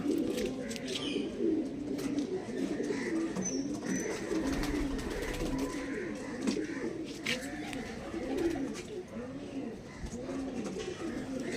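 Andhra Madrasi pigeons at a home loft coo in overlapping, repeated rolling calls that fill the whole stretch, with faint voices mixed underneath.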